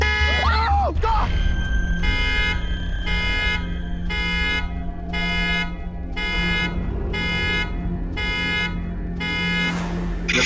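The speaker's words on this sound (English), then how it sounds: "moments later, the car alarm goes off" A car alarm blares in a regular on-off pattern of loud electronic honks, repeating about ten times after a brief vocal shout at the start.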